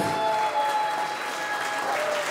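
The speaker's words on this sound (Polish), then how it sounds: "brawa proszę Państwa dla Państwa młodych" A wedding crowd applauds the newlyweds just after their lively first dance, a dense, steady wash of clapping that holds for the whole stretch, with faint sustained tones running beneath it.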